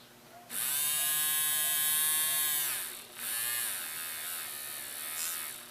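Small electric motor buzzing with its speed set by an optical sensor, a close high-pitched whir that starts suddenly, shifts in pitch, dips briefly and then runs on at a slightly lower level.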